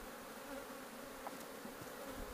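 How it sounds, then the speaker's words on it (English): Honey bees from a strong colony buzz at a top-bar hive, a steady dense drone with no voices over it. "it's a strong colony, there's loads of bees"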